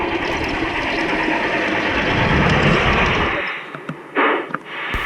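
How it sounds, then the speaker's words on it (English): Heritage train on the Superstition Mountain Museum Railroad in Arizona rolling along with steady rumbling and rattling wheel and car noise, then quieter clanks and knocks as the din drops away near the end. "Let's take a train ride through Arizona history aboard the Superstition Mountain Museum Railroad."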